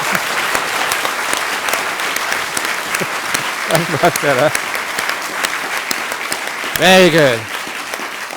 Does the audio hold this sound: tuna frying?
no